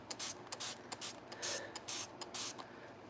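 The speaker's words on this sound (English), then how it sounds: "I take my water spray bottle and I spray inside of it and get it nice and wet" A water spray bottle is squirted inside a paint container in an art studio. About eight quick, close, soft hissing spritzes come in an uneven rhythm.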